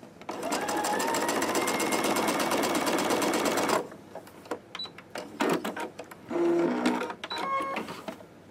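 Sewing machine stitching a small quilt piece, a fast steady mechanical whir for about four seconds, then short stop-start bursts, fabric handling clicks and a couple of brief whirs close by.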